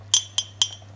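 A spoon clinks three times against a glass or bowl while cornflour is stirred into cold water, bright, close and evenly spaced over a low steady hum.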